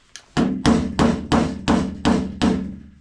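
Hammer blows on a dolly held against a dented steel door of an abandoned BMW E36, seven sharp metallic strikes in a steady rhythm, close and loud with ringing decay.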